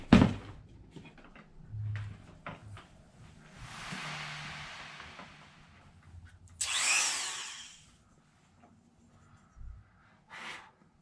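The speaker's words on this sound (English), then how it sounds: "Don't tell EMP I'm cutting his bracket." A power tool cuts a notch in an RC car motor mount bracket, with a close grinding whir in a few bursts of varying length and a sharp louder burst near the middle, followed by handling clatter, with no talk.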